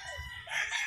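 Roosters at a gamefarm conditioning area crowing a short distance off, quiet and slightly muffled, over a steady hiss of background noise.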